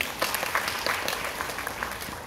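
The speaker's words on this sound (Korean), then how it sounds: "일단 박수 한번 쳐주세요" A dense, steady wash of applause from an audience at a Korean public forum, moderate and continuous for a couple of seconds with no talk over it.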